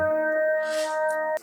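A clear sustained electronic tone from a Tactonom Reader Flex tactile reader marks line two, with a bright, reedy timbre, holding steady before cutting off suddenly, with a faint click at the end.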